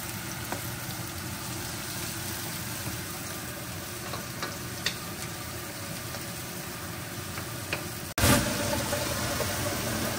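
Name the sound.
onions sizzling as they are added to the pan for tinola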